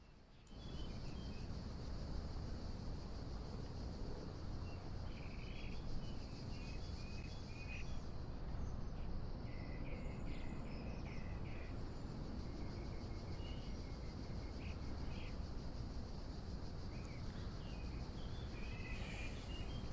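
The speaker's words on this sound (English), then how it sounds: "Let's listen to the birds." Ambient birds chirp in Microsoft Flight Simulator 2024, scattered high tweets and calls over a steady, dense insect-like and wind hiss, fairly faint and distant, with no talking.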